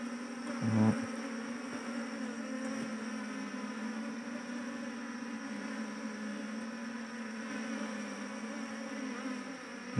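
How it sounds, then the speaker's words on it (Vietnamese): Bees buzzing inside a small log hive holding a modest colony, a steady close droning hum that holds evenly throughout with a brief knock near the start. "Đây ong ở trong đỗ này đây, đàn này cũng đàn bé bé xinh xinh nhé."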